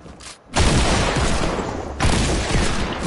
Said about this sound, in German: jemand hat mit einer Bombe geschossen